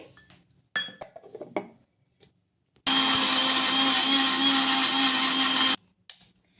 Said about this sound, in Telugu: మిక్సీ జార్లోకి అయితే వేసుకొని మెత్తగా మిక్సీ అయితే పట్టేసుకోవాలి